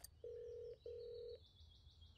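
A cartoon phone rings with two long electronic trill bursts separated by a short gap, followed by a faint, fading tail.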